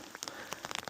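Rain patters on a mountain hiking trail in the Colorado Rockies, scattered drops tapping irregularly and close by in a short, quiet burst.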